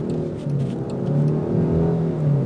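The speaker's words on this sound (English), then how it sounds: "flooring it so you can hear" A 2021 Land Rover Defender 110 engine accelerates at full throttle, giving a steady, muted rising drone heard from inside the cabin with no talk over it.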